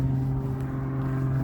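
A loud car engine, made to sound that way on purpose, drives up the road as a steady, heavy, droning rumble that holds evenly throughout without pause.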